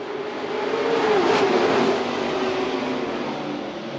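SPEARS modified race cars at Kern County Raceway give a loud, continuous engine roar that swells and fades as they pass, with a tonal drone rising and falling in pitch, heard from a distance with no talk.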